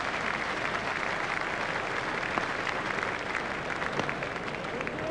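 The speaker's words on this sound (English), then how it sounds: "Crowd are standing and applauding." Cricket crowd in a stadium standing and applauding a batsman's half century during an Australia versus India Test match, a steady dense roar of clapping and cheering sustained throughout with no break.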